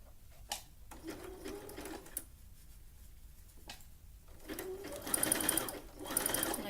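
A home sewing machine running a zigzag stitch over elastic for a tankini, with short whirring runs broken by pauses and a longer, louder run near the end, close by.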